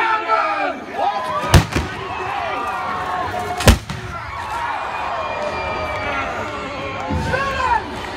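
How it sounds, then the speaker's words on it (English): Two sharp booming blasts of cannon fire punctuate a noisy joust show at the Pennsylvania Renaissance Faire, with shouting voices and a crowd around them. "fire the cannon!"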